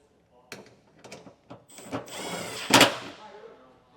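A longer bolt is tightened down on a Pop & Lock custom tailgate lock, giving a few short mechanical clicks and ratcheting bursts followed by a louder scraping, grinding run near the end.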